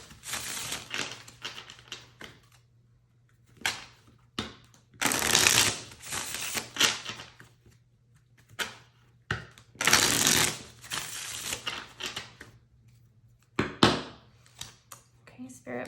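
Tarot cards are shuffled in repeated close riffling bursts separated by pauses, crisp papery flutters during a reading, with a quiet constant hum beneath.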